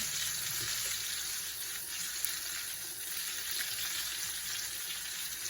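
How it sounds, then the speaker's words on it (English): Medium-cut chopped onions sizzle in a hot pan, a steady close hiss of frying holding even for several seconds with no voices. "I'm just going to put my onions in"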